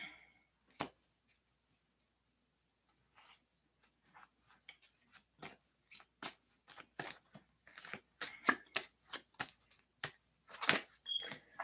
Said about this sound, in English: I don't know why I'm shuffling these cards.